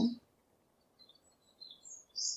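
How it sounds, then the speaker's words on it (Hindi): A sparrow chirps in short, faint, high tweets scattered through the moment, with a slightly stronger chirp at the end, over a soft background hiss and a brief low noise at the start. "स्पैरो को हम हिंदी में चिड़िया कहते हैं"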